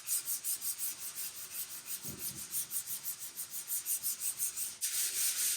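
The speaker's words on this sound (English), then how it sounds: "I always do cross strokes while you're sanding this." Abrasive sanding on the metal body of a 1951 Vendo 39 Coke machine during restoration bodywork, a close, steady rasp of repeated cross strokes with a brief pause near the end.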